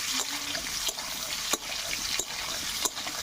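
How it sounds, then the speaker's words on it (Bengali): Boiled, peeled potatoes frying in hot oil in a wok, a steady close sizzle broken by a few sharp stirring scrapes and clicks. "তো ছাড়িয়ে রাখা সিদ্ধ করা আলুটা ভেজে নেব।"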